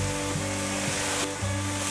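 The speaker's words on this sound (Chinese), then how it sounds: "把调味料炒匀" Pumpkin stir-fried with white pepper, rose salt, sugar, Sichuan pepper powder and vegetarian oyster sauce in a wok gives a steady, close broadband sizzle, with a few faint scraping stirs of a spatula.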